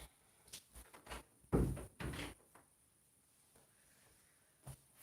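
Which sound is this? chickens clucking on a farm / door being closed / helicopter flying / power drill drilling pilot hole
door being closed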